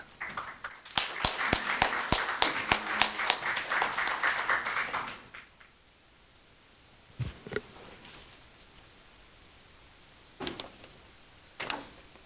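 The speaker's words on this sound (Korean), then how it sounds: "문희상 의장님을 박수로 모시겠습니다." A ceremony audience at the National Assembly applauds as the Speaker is welcomed, a brisk round of clapping at moderate distance that stops after about five seconds, leaving quiet room tone with a few faint knocks.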